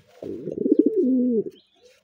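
A pigeon brooding on its eggs in a nest at a pigeon farm gives one close, clear, throaty coo lasting just over a second, with no talk around it.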